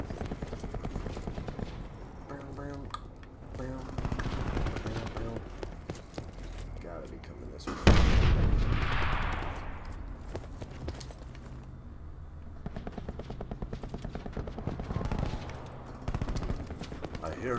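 Rapid bursts of automatic gunfire crackle through a Call of Duty: Modern Warfare match, with one loud blast midway, mixed under game sound and a player's voice.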